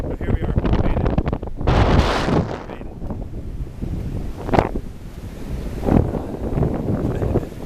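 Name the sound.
strong wind on a beach in England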